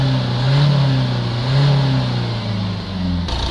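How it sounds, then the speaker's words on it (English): A Vauxhall Vivaro van engine with a clogged particle filter and its exhaust tube removed revs up close by, rising and falling in two or three loud surges over a steady idle. "Just going to give the engine a few revs."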